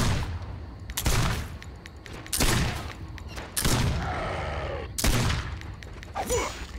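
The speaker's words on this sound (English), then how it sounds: "This gun is doing no damage." Video game gunfire bursting in rapid, loud volleys with short gaps between them, mixed with crackling impacts and game effects, close and dense throughout.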